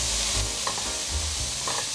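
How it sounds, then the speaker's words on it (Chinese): Cabbage stir-fried in a wok, with steady sizzling broken by repeated scraping strokes of a spatula over about two seconds and no talking. "放入高丽菜，快速翻炒，把高丽菜炒软"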